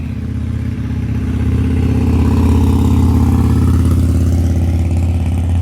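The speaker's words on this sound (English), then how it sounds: "Wait for that motorcycle to go by to ruin my video clip." A motorcycle engine drones steadily nearby, its low mid-pitched rumble swelling slightly as it passes, with no voices present.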